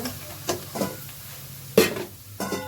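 Sorghum being roasted in a pan with salt, chili powder and turmeric, soft sizzling broken by a few sharp scraping stirs of a spoon against the pan, close and fairly quiet.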